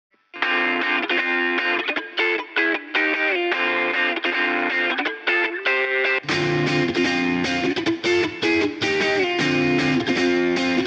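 Fast, funky guitar pattern for a modern anime opening verse, played with tight choppy strums and muted rhythmic stabs, bright and continuous, thickening after a few seconds into a fuller, heavier layered mix with no vocals.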